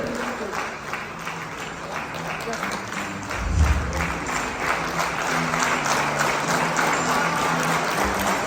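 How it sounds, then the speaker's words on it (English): Audience applause at an annual convention in a Colombo hotel ballroom, a broad, fairly steady wash of clapping from a large crowd, with a brief low thump partway through. "Please give a big round of applause"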